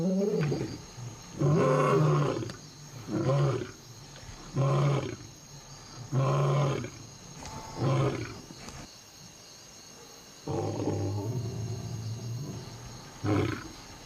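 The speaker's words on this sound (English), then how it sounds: "lions often roar in chorus." A chorus of lions roaring together in the wild, with a series of deep, rhythmic grunting roars in regular pulses, loud and close, followed by a longer rolling roar toward the end.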